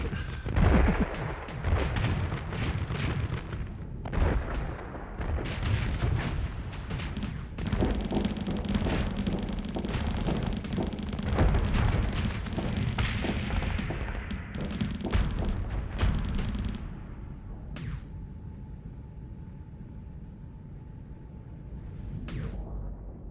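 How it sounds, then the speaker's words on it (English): Plasma batteries and torpedoes fire in the space combat game Starsector, rapid heavy booms and thuds stacked in a dense barrage that trails off into quieter tones. "Can't escape the plasma batteries or torpedoes."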